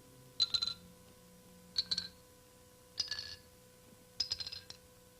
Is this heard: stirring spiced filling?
no